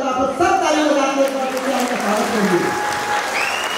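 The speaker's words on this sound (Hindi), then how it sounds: "सब तालियां बजा के" An audience at a large stage show applauds in a continuous clatter of clapping under loud, tonal sound that resembles a voice or music, sustained at an even level.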